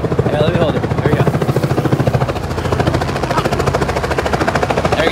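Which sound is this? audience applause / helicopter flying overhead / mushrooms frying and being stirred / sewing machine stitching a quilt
helicopter flying overhead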